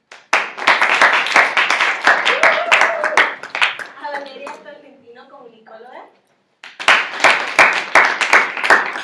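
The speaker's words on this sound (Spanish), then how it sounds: "Un aplauso, por favor." Applause for a sociologist introduced on a panel about freedom of expression, sharp dense clapping from an audience that fades as someone speaks, then bursts back loudly after a short pause.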